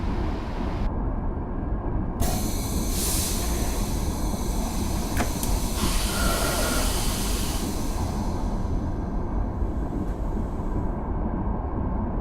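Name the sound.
train braking and running in video game Train Simulator 2015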